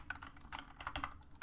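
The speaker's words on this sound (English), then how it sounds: "I'm not typing fast enough." Rapid typing on a computer keyboard while playing Bubble Gum Simulator, quick irregular key clicks in short bursts, quiet and close, with no talking.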